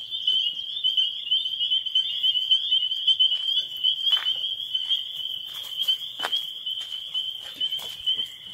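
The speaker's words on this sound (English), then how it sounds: "Listen to them peepers." A chorus of spring peeper frogs calls at night near an off-grid cabin in early spring, dense high peeps overlapping continuously with a few louder nearby notes.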